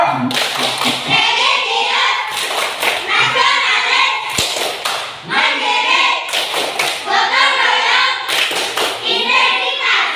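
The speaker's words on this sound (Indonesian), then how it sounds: "Tunjukkan semangat kalian dengan tepuk PDK." A primary school class does the PDK clap, a patterned routine of rapid clapping bursts repeated in several rounds, with children's voices chanting along loudly and close.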